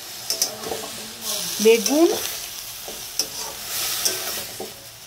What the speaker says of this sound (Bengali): আর এদিকে মেথি শাক বসাবো